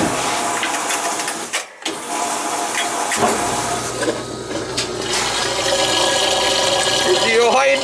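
Water running from a tap in a winterized summer cottage as the supply is turned back on, a steady broadband rush that briefly cuts out and then resumes, continuing close by to the end.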